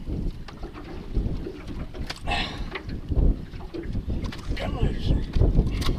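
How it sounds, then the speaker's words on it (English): Wind gusting over the Upper Laguna Madre around a small fishing boat, a steady rushing buffet on the microphone that rises and falls, with people talking throughout. "The wind picked up."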